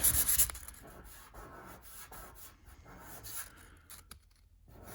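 Hand sanding to feather out a spot on car bodywork makes faint, rhythmic rubbing strokes that repeat steadily and fade toward the end.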